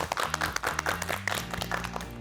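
A small group claps together in a dubbing studio, a close run of brisk, sharp hand claps that lasts about two seconds, with a steady tonal hum underneath.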